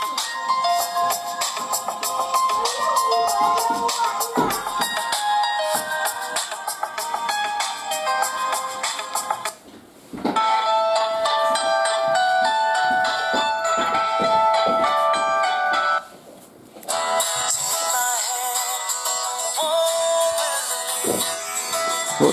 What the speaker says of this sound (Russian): Вот такой вот у нас звук на Nokia.